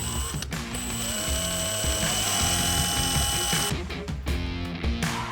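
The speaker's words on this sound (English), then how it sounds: "use a 13/64 drill bit and just open up this hole" A power drill with a 13/64 bit whirs steadily at close range for several seconds, then stutters in short bursts as it widens a hole in a plastic fog light bezel on a Chevy Colorado ZR2, with mechanical clicking underneath.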